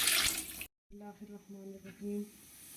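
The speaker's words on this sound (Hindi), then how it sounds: "अब इसमें कुछ और पानी ऐड करेंगे" Water poured into a pot of cooking peas for pulao, a brief splash and hiss followed by a gentle bubbling trickle, close and moderately loud.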